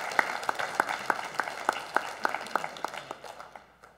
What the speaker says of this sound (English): I think it is appropriate in this time to give a round of applause